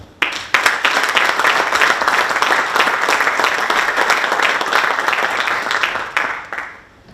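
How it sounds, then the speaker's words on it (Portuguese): Sustained applause from an audience at the presentation of Amarante Futebol Clube's centenary celebrations, a dense steady clapping that fills the room for about six seconds before tapering off. "merecem uma salva de palmas"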